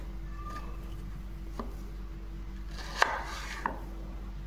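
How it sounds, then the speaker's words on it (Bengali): A knife cuts peeled potatoes into round slices in a few sparse, faint strikes on a board, the clearest near the end. The strikes sit over a constant low electrical hum. "প্রথমে আলুগুলোর খোসা ছাড়িয়ে আলুগুলোকে এরকম গোল গোল করে কেটে নেব"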